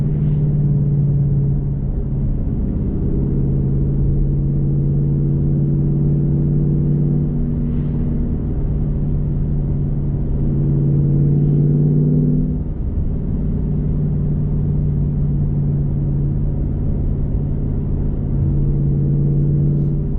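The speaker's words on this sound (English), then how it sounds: "With the X pipe, this car's definitely a little louder than the Bosses in stock form." A Ford Mustang with an X-pipe exhaust drones with a loud, low, steady exhaust rumble heard continuously from inside, with slight swells in pitch as the engine note shifts.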